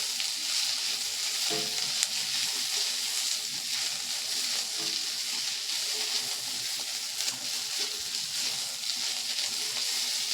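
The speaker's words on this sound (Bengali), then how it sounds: "পেঁয়াজগুলো দেখুন বন্ধুরা, কালারটা কিন্তু আগের থেকে অনেকটাই চেঞ্জ হয়ে গেছে, আর একটু ভাজা ভাজা হয়ে এসছে।" Sliced onions frying in hot oil for a moong dal posto dish make a continuous close sizzle and crackle, with a few faint utensil touches and no speech.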